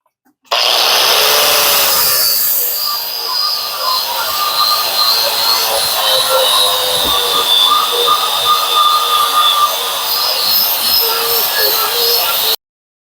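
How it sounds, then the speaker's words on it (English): A wire wheel brush grinding rust off the metal of a 1970s vintage camper: a loud, continuous high-pitched whirring scour that starts abruptly and holds steady for about twelve seconds before cutting off. "Got the wire flinger 5000. Going to try to get some of this rust off"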